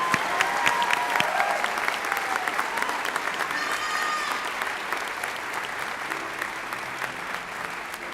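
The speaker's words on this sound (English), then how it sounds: "One more applause for this amazing educator." Audience applause at a school district awards ceremony honoring an educator: dense, steady clapping from a large crowd filling the hall, sustained throughout at even loudness with a few scattered cheers.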